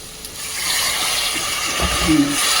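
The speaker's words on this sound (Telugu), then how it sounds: "అడుగు ఇట్లా అంటడం స్టార్ట్ అయిందంటే ఇంక నీళ్ళు పోసేయాలి" Water pours steadily into a cooker pot of mutton bone soup, a loud, continuous gushing rush with a slight bubbling gurgle near the end.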